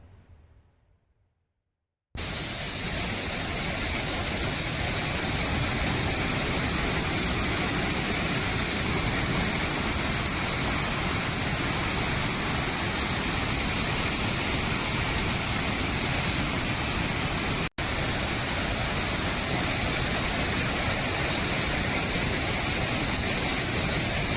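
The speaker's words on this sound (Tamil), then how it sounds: "கனமழை காரணமாக கோவை குற்றாலம் அருவியில் கடும் வெள்ளப்பெருக்கு ஏற்பட்டுள்ளது" A waterfall at Kovai Kutralam in flood after heavy rain, roaring as a loud, steady broadband rush that begins abruptly after a brief quiet start and continues unbroken.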